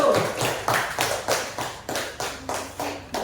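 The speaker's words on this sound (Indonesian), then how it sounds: "Tepuk tangan untuk kelompok 1" A classroom group gives applause for group 1 as about ten evenly spaced, rhythmic claps, loud and close, with no talking.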